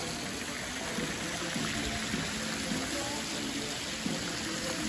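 Hot thermal spring water flows and splashes continuously into outdoor baths on a cold winter day in the North Caucasus, a steady broadband rush with faint voices in the background.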